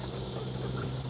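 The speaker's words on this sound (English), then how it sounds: "The cicadas are always super loud out here" Cicadas buzz outdoors in a continuous, loud, high-pitched drone that holds steady throughout with no pauses.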